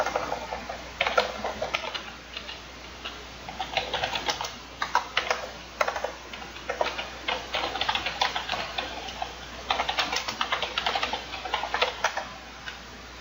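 Steady keyboard typing as C++ code is entered on a computer, a run of close, quick keystrokes in irregular bursts with brief pauses, no voices.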